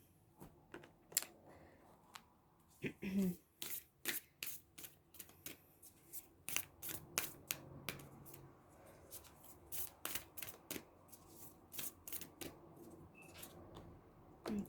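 Tarot cards being shuffled near the microphone during a quiet reading make a run of crisp, separate riffling snaps and slaps in uneven bursts across the whole stretch, with nothing else in the background.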